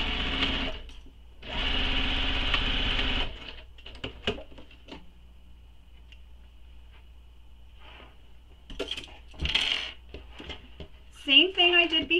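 A sewing machine stitches a bag strap seam in two sustained bursts of whirring, then pauses amid small handling clicks before a final short burst, with a few brief sounds of handling between runs.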